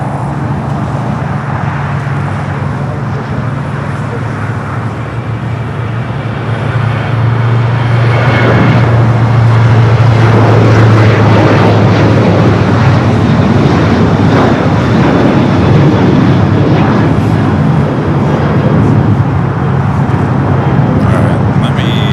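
Air Canada heavy jet, a widebody airliner, taking off from runway 25 right at LAX, its engine roar swelling to a loud, steady rumble that holds on alongside airport ambience and radio chatter.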